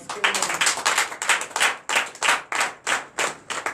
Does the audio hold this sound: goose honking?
no